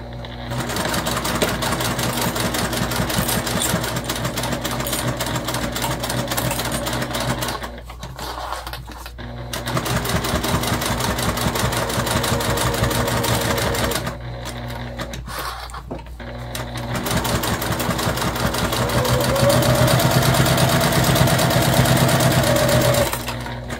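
A sewing machine bastes the back panel piece of a small bag, running in long steady bursts with two brief pauses between stitching runs, loud and close, with no talking over it.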